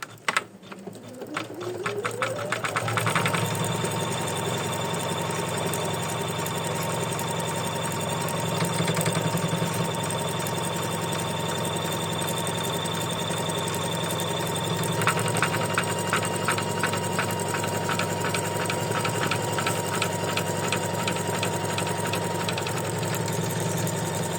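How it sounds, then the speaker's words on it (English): An embroidery machine stitches an in-the-hoop lacy lavender ornament, giving a steady, fast mechanical whirring hum with rapid needle ticking that runs continuously and close up, shifting slightly in pitch partway through, with no talking. "Make sure your laces are out of the way when your machine is stitching it."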